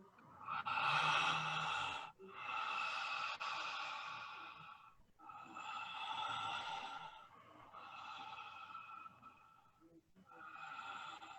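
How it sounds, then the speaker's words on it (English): Deep, full breaths during a breathwork session, a run of long loud airy inhales and exhales, each lasting one to three seconds with short gaps between, close and steady with no talking. "Keep breathing full deep breaths into every part of your body."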